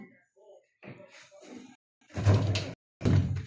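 A door is dragged open with a rough scraping rumble in two strong pushes, preceded by soft voices talking quietly nearby.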